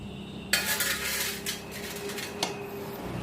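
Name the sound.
loosening the carburetor drain bolt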